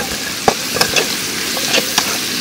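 Onions, chillies and garlic sauté in a pan with a loud, steady frying sizzle, punctuated by sharp spatters and the scrape of stirring.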